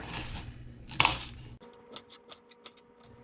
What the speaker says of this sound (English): And then we're going to dice it.